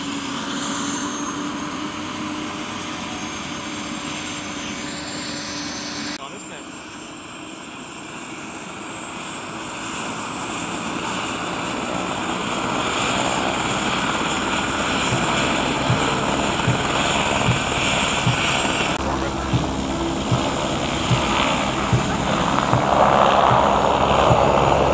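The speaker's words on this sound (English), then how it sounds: "Now that was a proper showy-offy takeoff, wasn't it?" Aircraft engine roaring through a showy takeoff at the Eshott Airfield airshow, a steady loud drone that builds and swells over the run, heard alone without talk.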